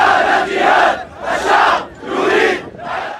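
A large crowd at a street protest in Syria chants slogans in loud, rhythmic surges, four rising and falling waves of massed voices heard close and without pause.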